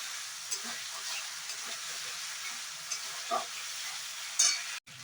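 Tomato ketchup frying in oil for a spiced chhena (cottage cheese) kachori filling, giving a steady soft sizzle and hiss with a few light stirring scrapes partway through.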